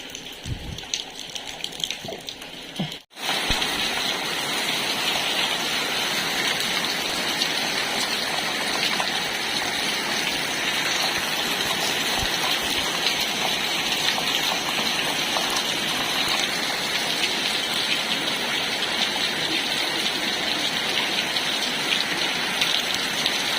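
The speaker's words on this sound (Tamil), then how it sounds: "இது மாதிரி தான் மழை பெஞ்சிட்ருக்கு" Heavy cyclone rain pours steadily through the night, a dense hiss of drops on surfaces that continues unbroken after a brief interruption near the start.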